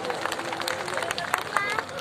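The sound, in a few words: applause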